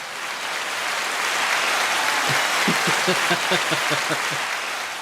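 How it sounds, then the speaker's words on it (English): A round of applause sound effect plays: steady, dense clapping that swells slightly and holds for several seconds. "let me hit a round of applause for you."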